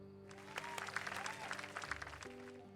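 Applause for the new builders at a welcome celebration in the video game My Time at Sandrock, a steady patter of clapping from a small crowd heard over sustained background music, moderate in level.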